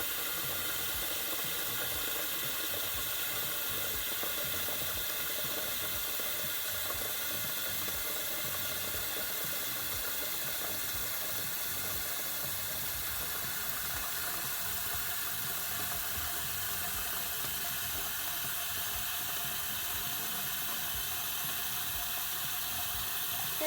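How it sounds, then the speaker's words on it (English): Water pours steadily into an Instant Pot, a continuous even rush of filling water lasting throughout at a moderate level, with no voices. "Fill it all the way to that 2/3 mark in the Instant Pot."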